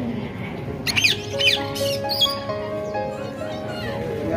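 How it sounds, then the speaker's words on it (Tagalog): Parrots at a morning bird show in Wah Fu Park give several sharp, loud squawks in quick succession near the start, with people chatting and children's voices in the background throughout. "Parrot."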